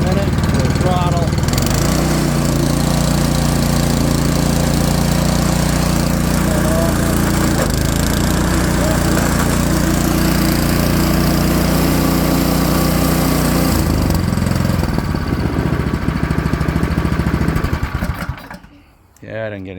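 A Troy-Bilt snow blower with a no-start fault runs at a loud, close idle on a carburetor repair, a steady rough chugging drone that holds for about eighteen seconds before dropping away.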